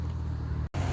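A rare Austin Allegro Equipe, a British Leyland car at a show, runs with a steady, rather rough low engine drone that cuts out briefly near the end, then resumes close and loud.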